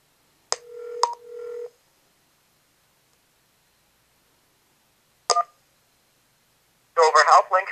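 An EMS PSS elevator emergency phone dials out with a few short, close DTMF beeps, then a long silence, a single beep, and a person starting to speak at the end.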